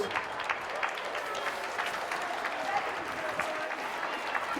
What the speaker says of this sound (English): Give both teams a round of applause.